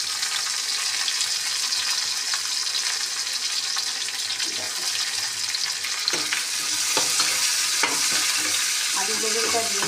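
Onion with thinly sliced eggplant and potato frying in a pan, a steady close sizzle with stirring scrapes and small clatters throughout, no talking.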